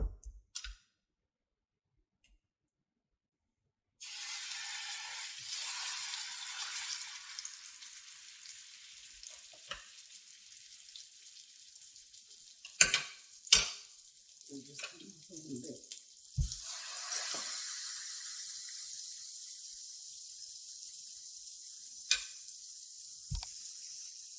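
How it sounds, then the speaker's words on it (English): Raw lamb shanks go into a hot pan and sizzle steadily for many seconds, a broad hissing fry with occasional clatters and bumps, starting suddenly after a brief silence, with a voice speaking faintly at moments. "Our pan is now ready and I'll put in the lamb shanks."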